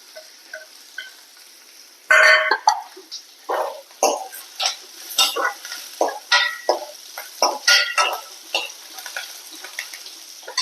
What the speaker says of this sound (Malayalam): ഇനി നമുക്കിതിലേക്ക് രണ്ട് മുളക്